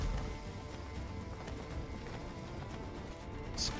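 Horse hooves clip-clopping in a Crimson Desert game trailer, a quick steady patter beneath a dense, continuous layer of music and effects, with a brief bright accent near the end.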